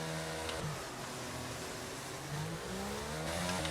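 F1 race car engines in a racing video game sit at steady, droning revs on the grid before the start, a sustained mid-level engine note with a slight rise near the end.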